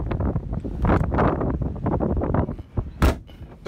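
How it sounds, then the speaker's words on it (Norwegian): Strong gusts of wind blast the microphone at an outdoor spot while waiting for a ferry, loud rumbling buffets rising and falling with a brief sharp knock near the end. "Og det blåser skikkelig kraftig der vi står og venter på ferja"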